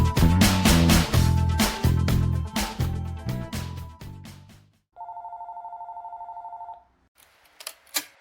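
A telephone bell rings in loud repeated bursts, then a steady electronic beep tone follows, and a few faint clicks close the sequence before an answering machine message.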